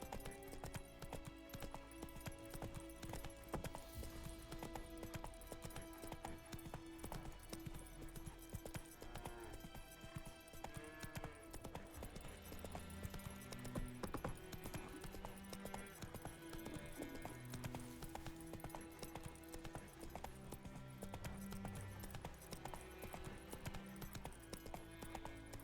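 Horse hooves galloping in The Witcher 3, a steady clip-clop rhythm running the whole time beneath dense game music, with a brief voice now and then.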